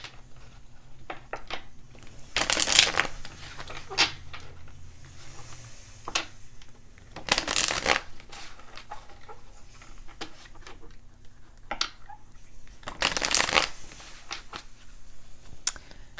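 Oracle deck cards shuffled by hand in three quick riffling bursts, separated by quiet gaps with faint taps and handling noises, close and fairly soft.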